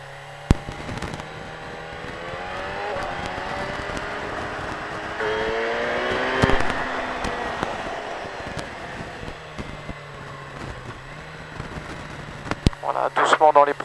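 A car engine drones steadily while the car drives on a track warming up its tyres, with rising and falling engine tones and wind noise, under a voice talking.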